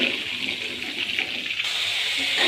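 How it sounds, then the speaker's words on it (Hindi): Water is poured into ginger garlic paste frying in a pan for Peshawari-style red beans, giving a steady, fairly loud hissing gush of sizzle that runs continuously throughout. "तो अब हमने इसमें पानी का टच दे दिया"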